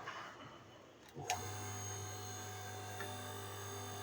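A hydraulic oil press switches on with a sharp click, then a steady motor hum and whine settles in and holds at an even level.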